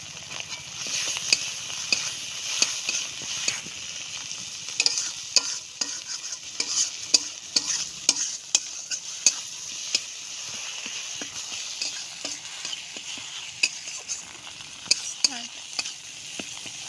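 Chopped tomato and spices frying while being stirred, a steady hiss of sizzling under rapid repeated scraping and tapping of a spoon against the pan, close and continuous for a long stretch, no voices.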